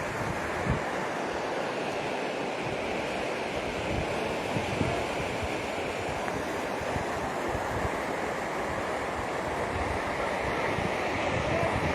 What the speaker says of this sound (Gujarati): બ્રાહ્મણી બે ડેમમાંથી પાણી છોડાયું છે જે આપણે જોઈ રહ્યા છીએ